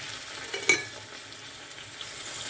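Food for a Provençal-style fish dish set to heat in a pan gives a soft, faint sizzle with one brief clatter early on, close by and steady, with no talking.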